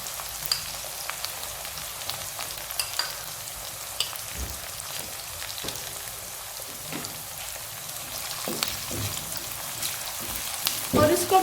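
Onions with ginger garlic paste frying in a pan for a white chicken karahi, giving a steady close sizzle with occasional louder crackles and stirring clatter, no talking.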